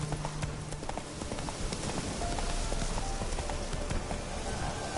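Roach, the horse in The Witcher 3, gallops with a steady run of clip-clop hoofbeats, loud and close, over a constant rumble of movement and wind.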